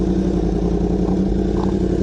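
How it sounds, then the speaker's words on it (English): A 2015–2018 Yamaha R1 sport motorcycle runs close by with a quick shifter, its engine holding a steady, loud, buzzing drone with no break in throttle. "I forget how freaking cool it is to upshift without even letting off of the throttle."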